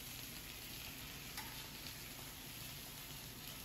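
Peppers frying in olive oil in a pan, giving a quiet, dense, even sizzle that holds steady throughout with one small crackle and no voices.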